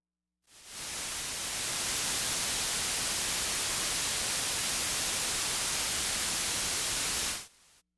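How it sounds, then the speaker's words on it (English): Steady broadband hiss from a synthesizer's white noise source, held at constant loudness for about seven seconds after a quick fade-in, then cut off abruptly, with no voices. "So first we're going to use a noise source."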